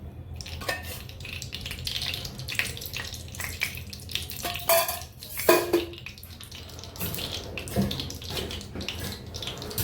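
Garlic fries in hot oil for a tadka in a heated pot, giving a soft, steady sizzle with scattered clinks and scrapes of a utensil stirring against the metal, close by and fairly quiet.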